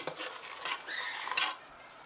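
A spoon scraping and stirring homemade blueberry jam in a pot, giving soft, close rubbing strokes and light metallic clinks in an irregular rhythm with no talk.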